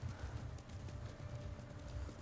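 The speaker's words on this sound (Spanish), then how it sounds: "vamos a montar en el caballo" Horse hooves galloping in the samurai video game Ghost of Tsushima, a steady quick rhythm of close, soft thuds running continuously at low level with no talk.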